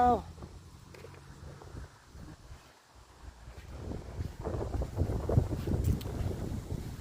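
Cold dry wind gusting outdoors, rising and falling in rough bursts of microphone buffeting that grow stronger toward the end, with faint background noises beneath.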